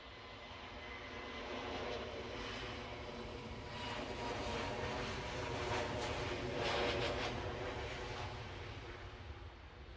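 A Lufthansa airliner at Edinburgh Airport gives off a steady, fairly distant engine roar that swells gently and holds for the full stretch, with no voices.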